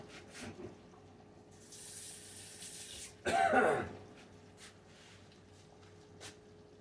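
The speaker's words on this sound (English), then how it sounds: "let me rinse my spoon off" A spoon is rinsed under a running kitchen tap during soup-making. A soft spray of water runs for about a second, then a louder, brief splashing burst follows in a quiet room.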